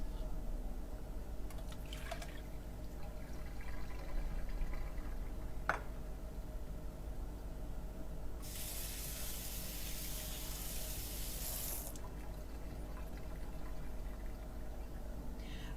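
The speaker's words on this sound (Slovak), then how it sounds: "Potom ju scedíme a rýchlo opláchneme studenou vodou." Blanched broccoli is drained and rinsed under cold water in a kitchen, with a steady running and pouring stream that swells into a louder rush for a few seconds over low background hum.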